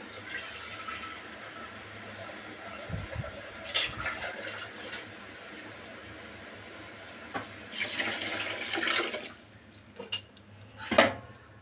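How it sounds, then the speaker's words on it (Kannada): Water runs and splashes into a cooking pot of rice and ghee for tomato kichadi, a steady faint pour with clinks of utensils and louder bursts of splashing toward the end. "ಇವಾಗ ನೀರು ಹಾಕ್ಬಿಡ್ತೀನಿ."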